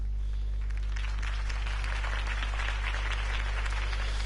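A crowd applauds after a political campaign speech for Harvey Dent in the Batman Telltale video game, a moderate swell of clapping over a constant low hum.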